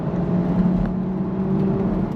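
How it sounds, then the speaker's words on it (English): Turbocharged 2025 BMW Z4 M40i with a 6-speed manual accelerating, a steady, loud engine drone and whir that holds evenly throughout without any talk over it. "The power delivery, it's actually quite smooth considering it's a turbocharged engine."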